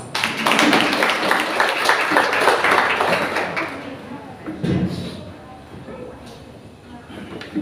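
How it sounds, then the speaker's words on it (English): Audience applause at a school debate competition grand final, steady clapping from a crowd for the first few seconds, then thinning out as a voice speaks over the quieter hall. "Please give him an applause."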